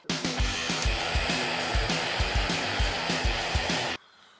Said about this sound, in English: We basically heat it from underneath, and when you start to see a band sort of just coming out the edge of your fitting, then you know it's ready.